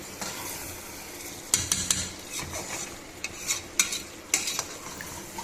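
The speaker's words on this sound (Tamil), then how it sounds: "இதை நம்ம கிளறி விட்டுக்கலாம்" Chicken biryani masala in a pot is stirred with a utensil, sending sharp scrapes and clinks over a soft background sizzle in irregular bursts, close up and without speech.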